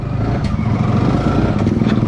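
A motorcycle rides through rain, its engine running steadily and close up as a continuous low drone with a rough, clattering texture for the whole moment.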